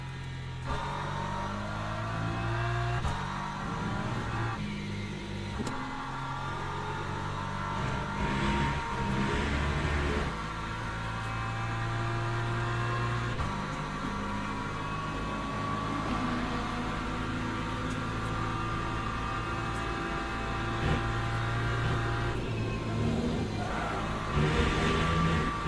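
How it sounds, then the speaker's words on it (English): Hypercar engines in the Le Mans Ultimate racing game drone and whine past, with rising and falling pitch as cars approach and recede, over a constant steady engine hum. "here comes the lead hypercar"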